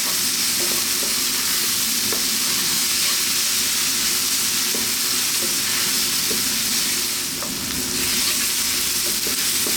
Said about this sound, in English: we're going to keep this moving, sweat these down